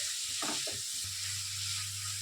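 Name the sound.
chicken mince being fried in a pan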